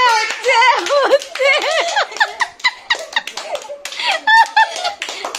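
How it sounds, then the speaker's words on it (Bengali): A few quick hand claps at a family gathering, mixed in with lively, high-pitched voices, giggles and chatter that mostly cover them. "হাততালি হচ্ছে"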